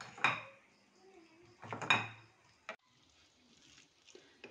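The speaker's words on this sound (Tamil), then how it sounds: "நான் வந்து இந்த மாதிரி மிக்ஸ் பண்ணுறேன்" A batter being stirred in a bowl with a utensil at home, giving a few scraping, clinking strokes near the start and again around the middle, then quieter faint stirring.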